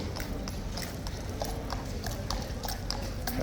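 A King's Guard horse's hooves clip-clop in a quick, steady rhythm on hard ground, close and clear against a busy outdoor background.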